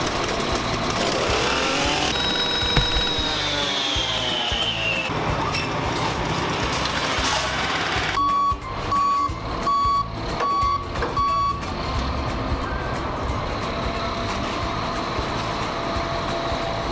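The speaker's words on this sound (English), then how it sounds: "This is a ladder truck." A fire department ladder truck idles with a rumbling diesel engine while a sweeping tone rises and then rapid regular reversing beeps sound several times, all fairly loud and close, with no talking.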